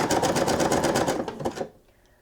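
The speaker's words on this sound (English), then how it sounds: "And we'll continue zigzag stitching" A zigzag stitch on a sewing machine runs over trim in a short, rapid burst of rhythmic needle chatter up close, which slows and cuts off, leaving near silence.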